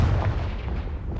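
A Confringo fire spell in Hogwarts Legacy detonates as a short, booming blast that rolls off quickly with no voices over it.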